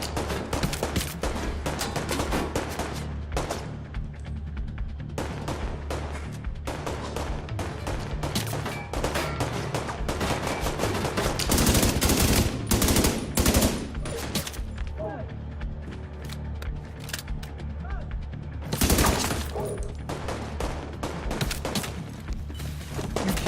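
Rapid bursts of automatic gunfire and sharp individual shots from a Division 2 firefight crackle continuously, close and loud, with occasional heavier impacts and mechanical clatter, while someone talks over the action.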